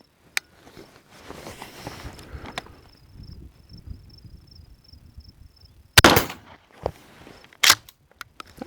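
A shotgun loaded with Hornady American Gunner 00 buckshot fires into ballistic gel. One sharp, close blast breaks a quiet stretch with faint insect chirps, followed by a few smaller knocks.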